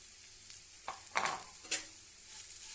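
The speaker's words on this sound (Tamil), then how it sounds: "எல்லாத்தையும் ஒன்றா நல்லா மிக்ஸ் பண்ணி விட்டுருக்கலாம்" Okra fry with grated coconut being stirred in a pan, a soft continuous sizzle broken by a few scraping strokes of a spoon, close and fairly quiet.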